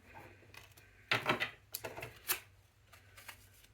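Tarot cards being shuffled by hand during a 2023 tarot reading, giving a few quick papery riffling bursts close by over a low steady hum, with quieter card rustles between them.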